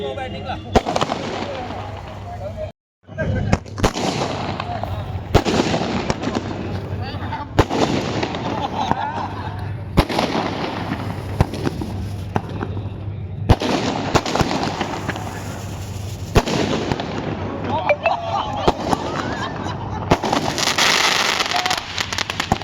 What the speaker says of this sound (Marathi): फटाक्यांच्या आतिषबाजीत या स्पर्धेचे उद्घाटन करतायत मामा भोळे